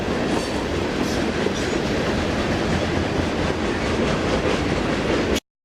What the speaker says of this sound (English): Shortly after the freight train went by